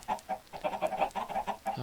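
Slime chickens in Minecraft Sky Factory 3 cluck in quick, repeated bursts, a busy close-up run of short clucks without a break and with no talking.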